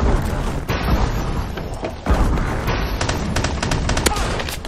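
Close-range gunfire in Call of Duty Advanced Warfare during a gun game match: loud, dense bursts of shots and booming impacts crowd together without pause, rising again in sharp cracks toward the end.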